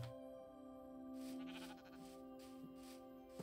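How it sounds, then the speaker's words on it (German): Sheep bleating in the Minecraft video game, a few faint short bleats in a quiet snowy area with no talking. "Also hier gibt es auf jeden Fall ziemlich viel Schafe."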